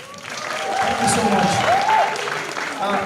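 An audience applauds after a culinary technology pitch at an academic-to-industry event, a steady wash of clapping from a crowd, with voices talking over it.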